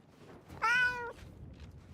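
A single cat meows once inside the video game The Outer Worlds 2, a short clear mew standing alone over faint background noise.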